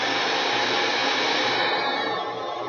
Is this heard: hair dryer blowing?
yes